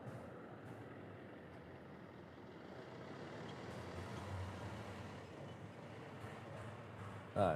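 A truck at an airport idles with a steady, broadband rumble that holds close and continuous throughout, ending in a short louder burst.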